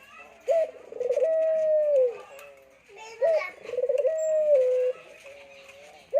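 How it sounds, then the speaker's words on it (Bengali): A dove coos nearby in a village home setting, giving three loud, drawn-out hooting phrases separated by short pauses. "ঘুঘু পাখি দেখতে পাচ্ছেন কীভাবে ডাকতেছে"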